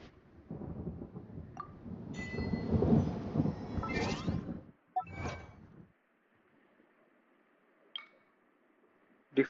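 Thunderstorm weather in the Genshin Impact video game: a long rumbling roll of thunder builds and crackles for several seconds, followed by a short sharp clap and fainter distant rumbles, with no talk.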